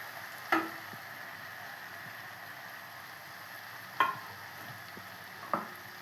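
Boiled potatoes being mixed into a spice masala in a pan for samosa filling: a steady low sizzle runs throughout, broken by three sharp scraping clacks of a spoon against the pan, spaced a few seconds apart.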